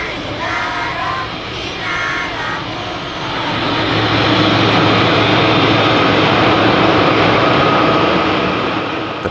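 A steady airplane engine roar inside the cabin of a jet carrying Hajj pilgrims toward Jeddah, a broad constant drone that swells louder midway, with faint murmuring voices early on.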